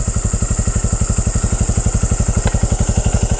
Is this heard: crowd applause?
no